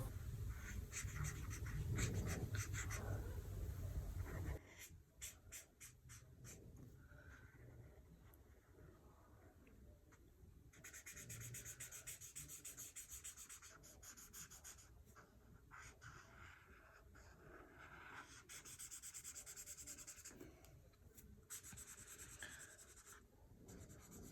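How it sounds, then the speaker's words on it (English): A marker squeaks and scratches across paper in short repeated strokes and longer rubbing passages, close and quiet, with no one speaking. "Now, enjoy some marker sounds"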